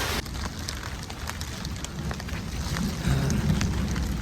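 Heavy rain in the Himalayas near Jhinu Danda, a dense steady roar of downpour that swells slightly louder toward the end, close and continuous with no voices.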